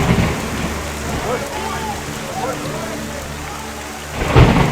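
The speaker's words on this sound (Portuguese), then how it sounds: "Olha, ó, tem até trovoada acontecendo." Thunder rolls under heavy rain, a loud steady downpour with deep rumbling and a stronger low burst near the end, with faint voices in the background.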